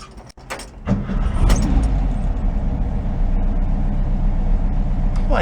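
A Volkswagen bus, its engine pulled from a barn, starts up after a few clicks and key sounds, then settles into a steady, loud, close engine rumble as it sets off.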